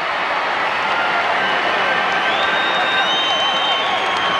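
A packed crowd at a 1986 Cardinals at Cubs baseball game in Chicago roars and cheers in a steady, loud wash of noise that holds without a break.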